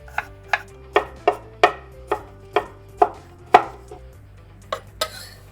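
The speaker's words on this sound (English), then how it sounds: "And of course I'm going to be using fresh garlic, just a couple of cloves here finely chopped." A knife finely chops fresh garlic cloves on a cutting board, about a dozen crisp, close, evenly spaced knocks with a short pause before the last few strikes.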